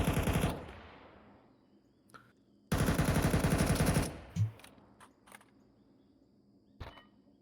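A competitive Counter-Strike match in which USP pistols fire in two dense, loud rapid bursts, followed by scattered single shots and faint clicks that fade out to near silence.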